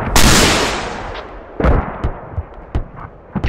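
A TOW missile launches with a loud whooshing blast in a video game battle, followed by a series of sharp gunshots and distant impacts scattered over the next few seconds.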